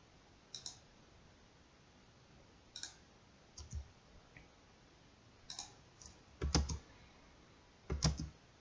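Keys clatter on a computer keyboard as commands are typed into drawing software, scattered single clicks and short quick bursts, close and quiet, with no voices.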